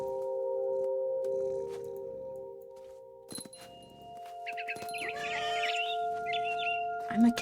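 A game bird squawks and chirps briefly in What Remains of Edith Finch over steady droning music, with a couple of soft thuds nearby.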